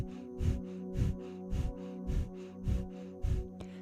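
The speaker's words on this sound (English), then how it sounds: "begin breath of fire, which is a rapid inhale and exhale from the navel" Breath of fire, a rapid kundalini breathing exercise pumped from the navel through the nose, comes as six soft, evenly spaced low throbs over a steady hum, faint and close, with no talking.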